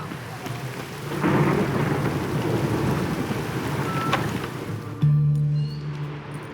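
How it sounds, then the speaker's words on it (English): Steady rain and a rolling rumble of thunder in The Witcher 3, a dense wash of rainfall that swells and sustains, ending with a louder low tonal hum. "It's raining, of course it's going to be damp."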